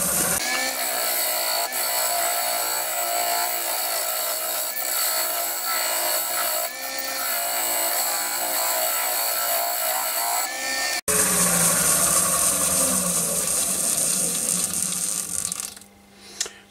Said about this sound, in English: So I'll just carry on with this mortise now.